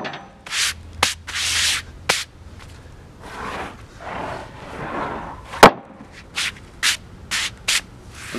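Quartersawn white oak boards being flipped through by hand, giving a series of close wooden knocks, scrapes and rubs, with one sharp clack midway and quick taps toward the end.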